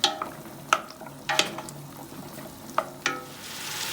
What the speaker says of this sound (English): Don't forget to stir your meat so that it can cook evenly.